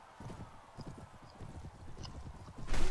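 Rapid drumming hoofbeats of a horse galloping in the medieval combat game Mount and Blade: Warband, steady and close, with a brief clash near the end.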